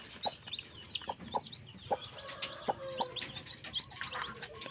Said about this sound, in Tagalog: May lumabas na 4 na sisiw.